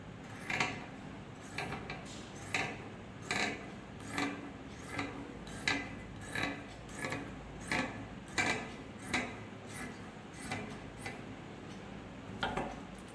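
Scissors cutting petticoat fabric in a series of regular crisp snips, about one every second, close and quiet with no talking.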